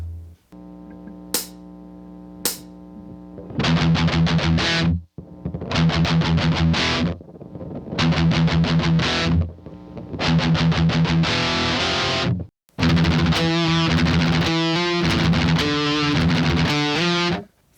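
Distorted electric guitar chugs through a double-time verse: fast palm-muted E5 pedal tones and power-chord bursts in loud, tight rhythmic phrases separated by brief gaps, played alone.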